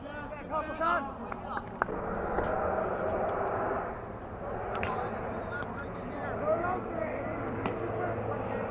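A fixed-wing airplane drones overhead during a community college baseball game, a low steady engine rumble running beneath near play-by-play commentary throughout.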